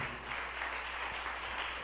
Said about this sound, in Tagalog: Kulang na palakpak yan